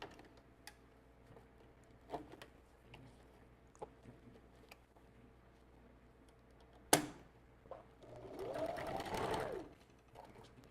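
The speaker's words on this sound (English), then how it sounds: "I'm going to stitch more closer to that" A sewing machine stitches a custom glueless wig, with a steady mechanical whir that builds to a loud burst near the end. Scattered clicks and a sharp snap come before it, all close up.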